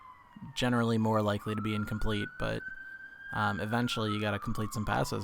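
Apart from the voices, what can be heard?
siren outside the window on a busy street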